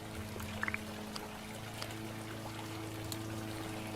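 Water pours steadily in a video game as plants are watered, a soft continuous trickle that sits low under a constant hum of background game sound, with no one speaking.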